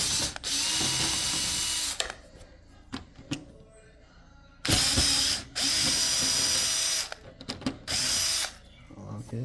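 Power screwdriver whirring in loud bursts of one to two seconds while backing screws out of a Micro ATX gaming PC during a teardown, with quieter clicks and handling noises between the runs.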